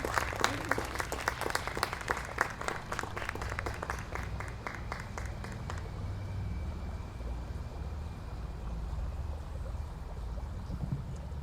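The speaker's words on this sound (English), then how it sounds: "Let's give a nice round of applause for all the poets tonight." Audience applause for poets at an evening reading, lively crowd clapping with distinct individual claps for about six seconds, then dying away into a low, rumbling room noise.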